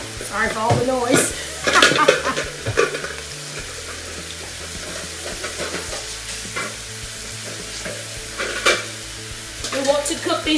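Steaks sizzle and pop in hot grease, with scraping stirs and bursts of spattering, while a person talks over the frying.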